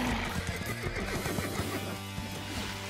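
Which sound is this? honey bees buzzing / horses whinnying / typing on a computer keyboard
horses whinnying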